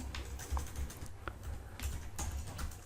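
Fingers type Rust code on a computer keyboard, making soft, quick clicks in short uneven bursts. The clicks are faint and close, with no talking.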